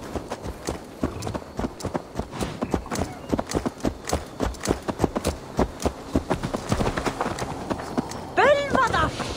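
Rapid hooves clip-clop steadily on hard ground, close and loud, in the video game Assassin's Creed Valhalla, ending with a horse's whinny; voices murmur faintly underneath.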